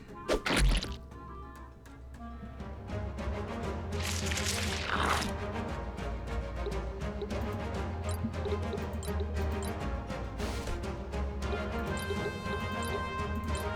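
A Corrosive Bomb attack in the tactical RPG Fell Seal: Arbiter's Mark, a sharp crashing impact at the start, then a longer burst of sizzling and clattering effects over steady game music.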